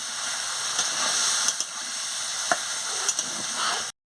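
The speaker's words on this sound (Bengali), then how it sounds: "ঢাকাটা খুলিয়ে সর্ষে বাটা দিয়ে দিচ্ছি, দিয়ে ভালো করে নাড়িয়ে নিচ্ছি।" Ridge gourd curry with mustard paste being stirred in a pan on a village stove, a continuous close sizzle and hiss broken by a few sharp spoon taps against the pan before it cuts off abruptly.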